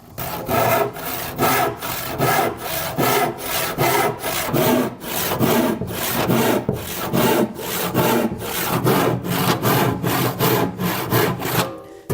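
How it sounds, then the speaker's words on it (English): A fine-tooth crosscut saw cuts across the grain of a wooden board in steady, rhythmic back-and-forth strokes, each rasping pass close and distinct, with no voices. "I'll take a crosscut saw, which is this fine tooth saw, and we'll cut across the grain right on this line"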